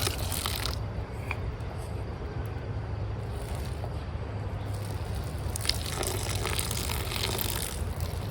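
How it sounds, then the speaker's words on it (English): Water dumped out of a cast iron pan beside a campfire outdoors, a steady splashing gush lasting several seconds with faint clanks of the pan, heard fairly close with no talking. "I'm just dumping the water"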